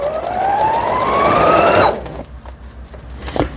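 A Brother XL 9500 sewing machine runs a steady, fast stitching whir with a rising motor pitch for about two seconds, then stops abruptly, leaving faint clicks and light handling noise.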